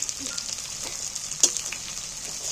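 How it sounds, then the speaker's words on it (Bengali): Chopped tomato frying in hot oil in a pan, a steady soft sizzle throughout with one brief clatter midway, close and fairly quiet, no talking. "এবার টমেটোটাকে ভালো করে তেলের মধ্যে ভেজে নেব"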